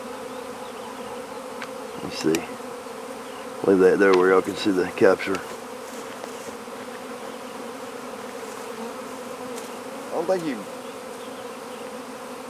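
Bees buzz steadily inside a container, a close, continuous drone that swells in a louder burst partway through while someone talks over it intermittently.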